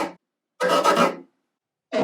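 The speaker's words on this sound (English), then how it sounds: "the DJ scratch is gonna be 4 consecutive scrapes, down, up, down, up" Percussive bow scrapes on a cello, with the bow angled to give a rough, raspy DJ-scratch sound. A couple of short, gritty swipes are separated by silence, and they are close and clear with no talking.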